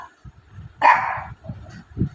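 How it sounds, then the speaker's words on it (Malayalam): A single sharp bark or yelp from a pet dog rings out close by indoors, with quieter low rustling and movement before and after it. "അങ്ങനെ കുരയ്ക്കാൻ പാടുണ്ടോ കുട്ടികള്?"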